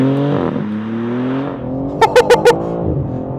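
A BMW G80 M3 with its factory exhaust drones at steady revs, shifts pitch, then lets out a quick burst of four sharp pops or crackles before settling back into a loud, sustained engine note.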